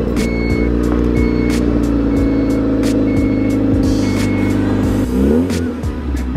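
A car's engine rumbles steadily through a cold start, close and loud, with a brief revving swell near the end and a high electronic beep repeating above it; no one speaks.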